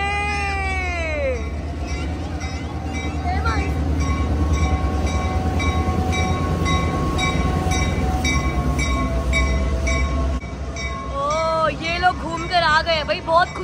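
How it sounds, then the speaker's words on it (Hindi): A train arriving at a station, a loud low continuous rumble and clatter with steady rhythmic rail beats building and running throughout, with voices around it and a high squeal near the end. "ओह ट्रेन की आवाज़ आ गई यार, मुझे लग रहा है ट्रेन आ गई है"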